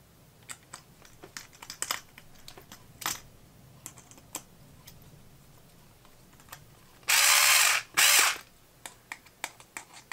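Self-tapping screws are driven into a Raspberry Pi Pico weather station box to hold a spigot: scattered small clicks and handling knocks, then two short loud bursts of a power driver whirring close up.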